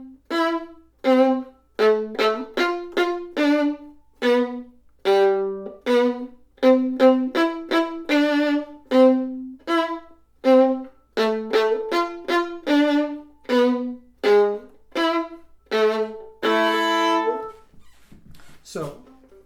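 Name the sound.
violin bow strokes at the frog with retakes, lifted détaché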